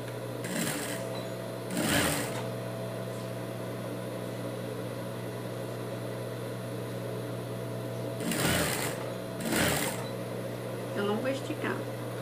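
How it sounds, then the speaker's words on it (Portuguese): A sewing machine stitches a T-shirt hem in short bursts of rapid whirring, separated by a steady background hum and faint handling sounds. "Costurando toda a barra"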